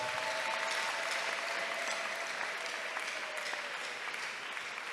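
A church congregation claps in praise of God, dense sustained applause filling the room evenly from start to finish, with faint voices in the background.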